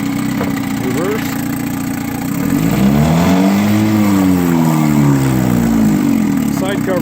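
A 1959 Gale Sea King 5hp outboard motor runs steadily in a test tank, its engine note loud and close, with a pitch that sweeps up and back down midway before settling into a steady idle again.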